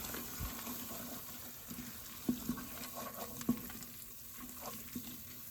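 Flour being stirred into garlic in a pot to make a roux for potato soup gives soft scraping and stirring with a faint sizzle, plus a few light utensil taps against the pan.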